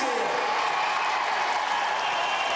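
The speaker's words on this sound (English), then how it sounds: "Come on, give them a cheer." A studio audience at a 1993 UK Gladiators heat breaks into cheering and applause, a dense, even burst of clapping and crowd noise lasting a couple of seconds.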